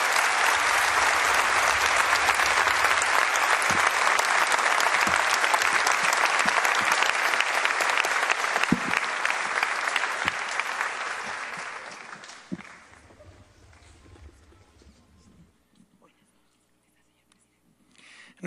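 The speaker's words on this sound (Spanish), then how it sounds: "Recibamos con un gran aplauso al señor Presidente Constitucional de la República" Sustained audience applause at the opening of the Teatro Nacional Benjamín Carrión greets Ecuador's president, a dense, loud wash of clapping from a large crowd lasting about twelve seconds before thinning to scattered claps and fading to near silence.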